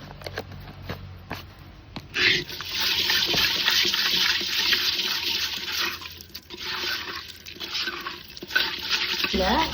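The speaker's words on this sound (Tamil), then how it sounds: "நாலு தண்ணியாட்டம் ஊற்றி க்ளீன் பண்ணால்" Water sloshes and swirls steadily as snails are rinsed and stirred by hand, with small clicks and rattles of shells knocking together, close and continuous.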